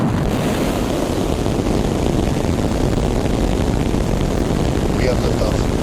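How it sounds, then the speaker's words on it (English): SpaceX Starship rocket engines roar at liftoff on the twelfth flight test, a dense continuous rumble that stays loud and even throughout, with no break. "We have liftoff."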